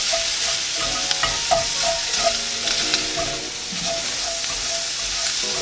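Sausage fries in a pan with a steady, bright sizzle and crackle, close and continuous, with occasional light stirring or pops.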